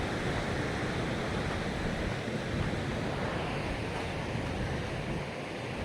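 A fast river of water running down from the hills rushes past in a dense, constant roar, loud and close, with wind-like hiss and no voices.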